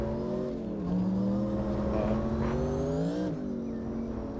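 A drift car's engine in CarX Drift Racing revs loud and steady under light throttle, the pitch rising and falling with a brief dip near the end, with no voices over it.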